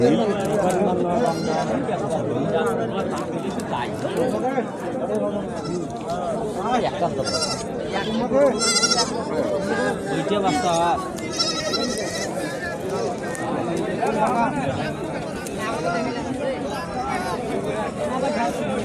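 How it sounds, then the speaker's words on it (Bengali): Goats bleat again and again at a crowded goat market in Badarganj, Rangpur, their wavering cries rising over a constant din of chatter and bargaining voices throughout. "প্রচুর পরিমাণ ছাগল আছে"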